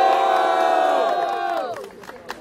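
A crowd at a rap battle in São Paulo shouts and cheers together in a loud, sustained roar that tapers off after about two seconds, leaving scattered calls and noise.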